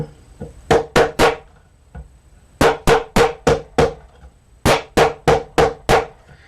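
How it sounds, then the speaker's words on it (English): A hammer taps a fret into a vintage Stella acoustic guitar in sharp, close metallic-wooden strikes, grouped in quick runs of three to five blows separated by short pauses. "you notice how I was kind of going like that with the hammer"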